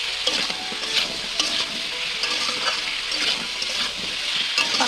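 Cumin seeds and green chilies frying in hot oil in a pan, with a continuous crackling sizzle and scattered spatters and stirring scrapes close by, no voices.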